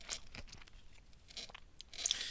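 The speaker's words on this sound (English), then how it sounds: "It's crunchy from the outside and soft from the inside." Crunchy-outside, soft-inside food being chewed up close, a few faint crisp crunches and wet mouth sounds scattered irregularly over a quiet background.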